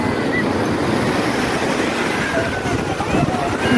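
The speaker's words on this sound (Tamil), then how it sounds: "அவ்வளோ பெரிய அலை வருது." Large sea waves breaking, a continuous wash of surf and churning water mixed with wind noise on the microphone, steady and fairly loud, with a voice over it.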